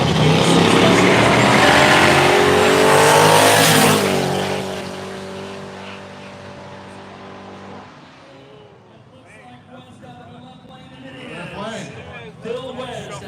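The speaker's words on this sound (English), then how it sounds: "Going to round number 3, the Ford Mustang with an LS Turbo eliminates Gary Miller." Ford Mustang with an LS turbo engine at a no-prep drag race in the woods, its loud engine roar filling the first four seconds before fading into softer distant motor noise and crowd sounds.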